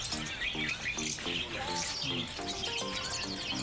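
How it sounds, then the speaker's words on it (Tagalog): Many small birds chirp and tweet in a steady busy chorus at a Kuwait pet market, with a dense layer of overlapping calls and distant voices murmuring underneath. "Mga kakaibang ibon."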